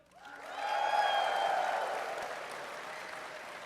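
Live convention audience at a podcast panel bursts into applause, swelling quickly to a dense, sustained roar of clapping mixed with cheers, then gradually tapering while still going, with no talking over it.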